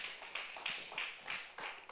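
A church congregation clapping during a sermon, a quiet, distant patter of hands about a dozen irregular beats in under two seconds.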